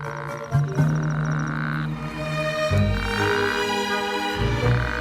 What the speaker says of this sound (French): Plus son coassement est fort, plus ses chances de s'accoupler sont grandes